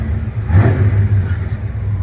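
Replica supercar with an original Ford engine revving close by, a single loud rising rev that swells and then settles back over about two seconds, with no voices.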